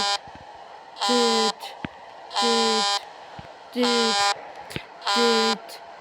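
Four long honks of a loud truck horn in a cargo truck simulator game, evenly spaced with short pauses between, over a quiet background with faint clicks.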